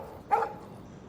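A single short bark from a dog in the video game Life Is Strange, one sharp burst fading quickly into a quiet background.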